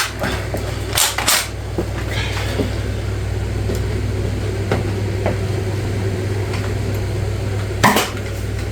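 Nerf Pinpoint blaster firing a dart, a few sharp close pops and clicks over a steady low hum, with the loudest shot near the end.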